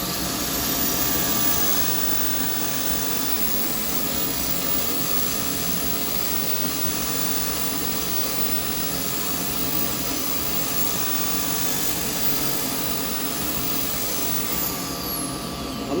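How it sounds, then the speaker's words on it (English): Constant whirring drone of a spinning lathe with the soft hiss of sandpaper against a small yew pot, steady and close throughout, no voices. "I'm only sanding this bit here"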